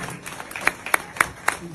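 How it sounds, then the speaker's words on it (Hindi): Audience clapping at a public event where a Meja MLA sings, with a few sharp separate claps standing out over a soft crowd background, just before a song begins. "जोर से तालियां बंद ना हो जब तक गाना चालू ना हो"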